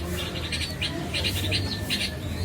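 Young Golden pigeons squeak in short, high chirping bursts, repeated irregularly at close range over a soft background hum.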